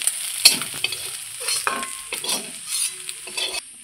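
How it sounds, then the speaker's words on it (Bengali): Small mourala fish fry lightly in hot oil, giving a steady bright sizzle with scattered sharp clinks and scrapes of a stirring utensil, fairly close, with no talking. "খুব সুন্দর করে হালকা করে একটু ভেজে নেবেন"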